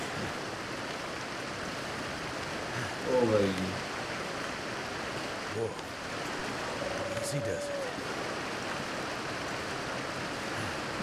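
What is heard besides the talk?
flowing river water in a video game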